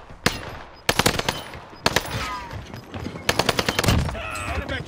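Submachine gun fire in Call of Duty Warzone on Rebirth Island, loud rapid bursts of automatic shots in several volleys with short gaps between them.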